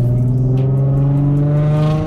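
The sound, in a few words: car engine accelerating in second gear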